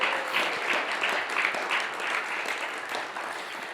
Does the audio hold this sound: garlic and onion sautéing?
no